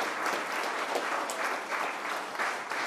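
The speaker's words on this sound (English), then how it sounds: "please, everybody, give their families a big round of applause" Wedding guests clap together in a full, continuous burst of applause that stays loud and even from start to finish, with no one speaking over it.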